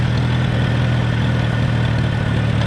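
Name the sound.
Farman Super FC old petrol tractor engine idling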